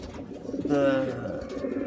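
A single pigeon, a racing bird, gives a short, close, low coo lasting under a second, with faint background noise around it.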